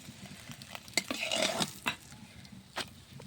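Beaten eggs puff up as they fry in mustard oil in a pan. A spatula clinks and scrapes against the metal, with a few sharp clatters over a faint background sizzle.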